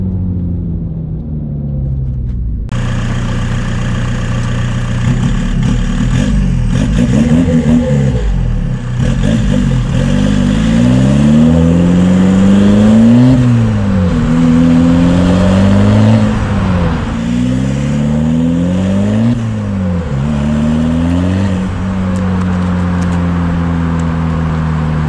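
Cupra TDI diesel car with a manual gearbox, its engine and exhaust revving repeatedly close to the tailpipe, rising and falling in several strong rev sweeps over a steady idle rumble.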